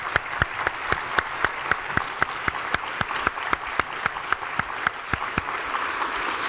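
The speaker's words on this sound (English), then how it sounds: "I wanted to give a round of applause for that extra academic accomplishment" An audience at a medical college graduation celebration applauds a student who completed her PhD, steady clapping with one nearby pair of hands striking sharp, evenly spaced claps above the crowd.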